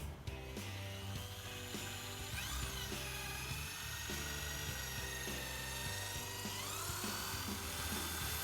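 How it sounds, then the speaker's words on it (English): Power drill boring holes into a wooden trim piece for a BBQ cart built around a 22-inch Weber kettle, a steady loud whining drone with pitch sweeps as the bit bites and eases, running continuously without talk. "the marks where I'm going to drill my holes"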